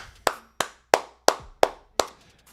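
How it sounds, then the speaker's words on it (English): Six sharp, evenly spaced hand claps from a single person, close and loud, each ringing briefly before the next, with no talk. "let's clap it up to Hunter Renfrow."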